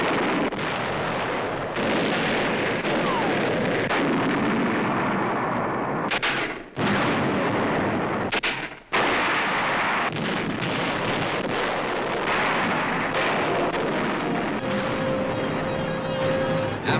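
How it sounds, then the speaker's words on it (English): Heavy WWII artillery-style blasting as American tanks and mortars pound German hillside strongholds, a loud continuous rumble with deep booms and a brief drop-out midway, no talking. "American tanks and mortars now blast German hillside strongholds in the center."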